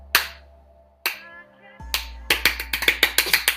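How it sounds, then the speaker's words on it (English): A small round of hand clapping for Janelle Monáe: a few spaced claps, then a quicker burst of sharp, close claps near the end, with no talking over them. "It's a little clap for Janelle Monáe."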